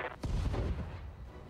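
A single heavy Thumper cannon artillery blast in the BattleTech video game, a sharp loud boom followed by a rolling low rumble that fades over about a second.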